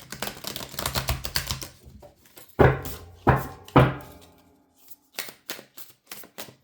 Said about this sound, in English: So mixing the cards.